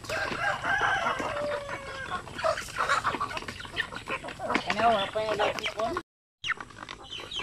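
Chickens cluck and a rooster crows among a flock of hens and chicks, a busy, steady mix of calls close by, with a brief silent gap near the end.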